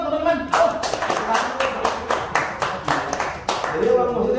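Rhythmic group clapping in a steady beat at a talk with a singer-songwriter, sharp even claps repeating about twice per second, with voices faintly around the edges.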